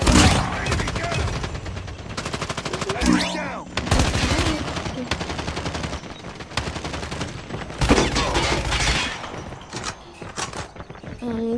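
A gun in a solo-versus-squad shooter video game fires in rapid bursts, dense crackling volleys that are loud and close and nearly continuous, with brief breaks between them.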